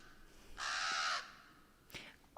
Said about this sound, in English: this is the crow